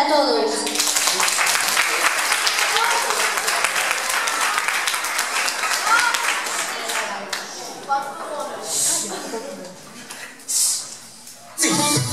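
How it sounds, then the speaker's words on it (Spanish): Sustained applause from a crowd at a school end-of-year festival performance, dense clapping that fills the first several seconds and then thins out, with voices and music cutting in near the end. "Otro aplauso"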